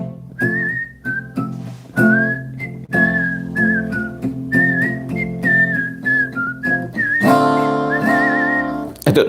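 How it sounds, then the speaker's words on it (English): Someone whistles a tune alone, a clear melodic line of short phrases with brief breaths between them, close and fairly loud. "Can you hear the whistling?"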